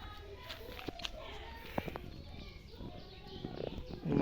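Young pigeons coo softly on a rooftop on a hot, still afternoon, with low repeated calls mixed with faint bird chirps, light footsteps and background voices.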